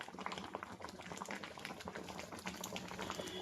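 Ripe mango pulp with ghee simmers and reduces in a pan, giving a steady, dense bubbling and popping that stays close and even throughout, with no voices.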